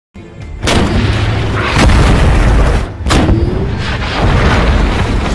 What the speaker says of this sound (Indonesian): Sebelum bertempur, mereka menguji tank baru tersebut dengan menembak target.